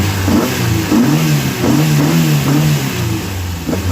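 A Mk1 Escort engine with an EFI cam runs close by, its steady rumble rising in several quick revs over four seconds, loud and without voices.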